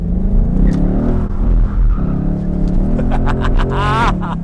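A Ford Mustang GT 5.0 V8 convertible with 450 horsepower revs hard, its deep, rumbling engine note swelling and climbing in pitch, loud and close throughout.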